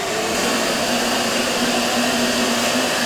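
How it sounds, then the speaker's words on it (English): A vacuum cleaner runs steadily while cleaning powder-coat powder off a forged wheel, a loud, close, unbroken whooshing roar with a constant motor hum and no voices. "So when you're vacuuming and wiping, you want to make sure you start from the top of wherever you're working and work your way down to the bottom."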